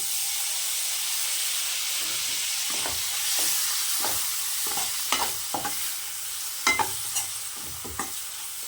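Tomato being stirred into hot oil for a mushroom curry: a steady sizzling hiss with repeated scraping and clinking stir strokes from a spoon in the pan, close and continuous with no talking.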